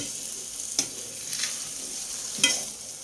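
A sticky sweet snack mixture being stirred in a pan, with faint scraping and soft sizzling under steady background hiss and two sharper knocks of the spoon against the pan.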